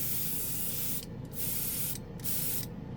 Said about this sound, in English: I put some lacquer thinner in my airbrush